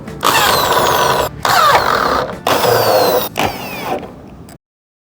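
A power drill driving screws into a pergola during installation, four loud whirring bursts that rise in pitch and have brief gaps between them, close up, then silence.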